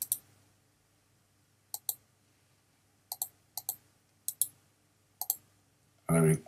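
Computer mouse clicks sound in crisp close pairs, four or five double-clicks spaced over a few seconds in a quiet room, followed by a short burst of speech.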